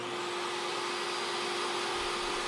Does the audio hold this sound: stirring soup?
no